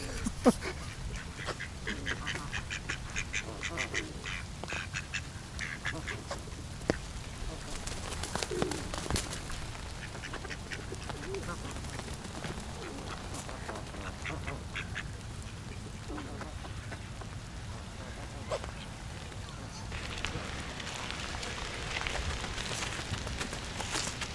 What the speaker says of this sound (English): Oh, that's a violent duck.